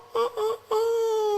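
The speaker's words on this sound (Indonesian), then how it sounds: "dengar suara ayam berkokok." A rooster crows close by, with two short clipped syllables followed by a long sustained, slightly falling call, loud and clear with no talk over it.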